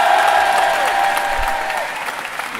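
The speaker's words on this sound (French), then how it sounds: "Du bruit pour Sandra, s'il vous plaît" A crowd claps and cheers steadily, a dense wash of applause that gradually thins toward the end.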